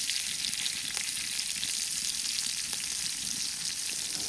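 Steak sizzling and frying on a metal shovel over heat, a steady close hiss of fat and meat crackling with no talk.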